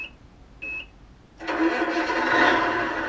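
A GT Power light and sound kit on an RC truck plays electronic beeps, then a simulated engine starts and settles into a steady synthetic idle, close and moderately loud.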